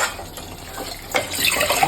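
A cup of water goes into a hot pan of maida halwa frying in oil and ghee, giving a steady splashing, hissing pour that swells louder near the end. No one speaks.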